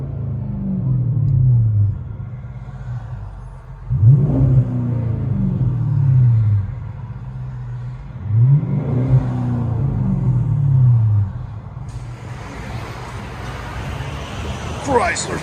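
A 2005-2010 Chrysler 300C with a 5.7L HEMI V8 and aftermarket exhaust, heard from inside the cabin: a deep, steady low drone that swells with two rising revs before settling back to idle.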